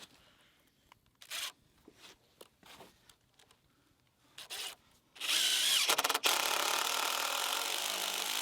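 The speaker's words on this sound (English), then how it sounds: "run some screws into it" A power drill drives screws into wood on a log-built sawmill stand, first in several short bursts with pauses, then in one long, loud, sustained run.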